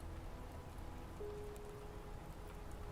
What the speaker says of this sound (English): The rain tapped a gentle rhythm on the glass above them